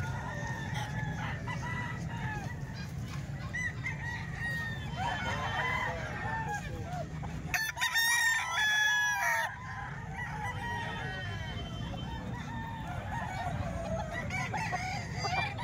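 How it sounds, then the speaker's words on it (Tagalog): Many chickens and roosters at a market in Calumpit, with roosters crowing and hens clucking in a continuous chorus, a loud crow standing out near the middle, and voices faint underneath. "Napakaraming manok ngayon."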